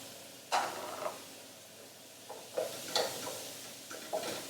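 Courgettes are tossed into a hot pan glazed with balsamic vinegar, giving a few separate sizzling bursts and scraping clatters spaced across the moment over a low background hiss.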